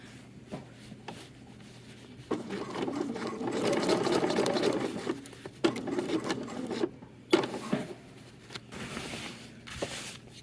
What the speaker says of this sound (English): seam, and go around in a little square. You can make it a circle if you want to. Just top stitching.